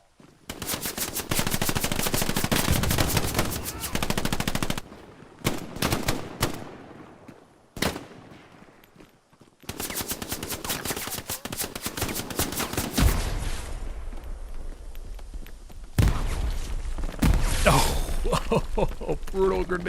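Machine-gun and rifle fire rattle through a D-Day combat game in long automatic bursts split by short gaps. A voice talks over part of the shooting.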